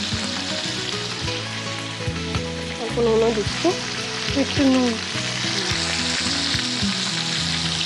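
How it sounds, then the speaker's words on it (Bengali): Vegetables with a little turmeric fry in an oil-filled pan, giving a steady close sizzle throughout with occasional stirring scrapes, while people talk over the cooking. "এটা একটু ভাজা ভাজা হবে।"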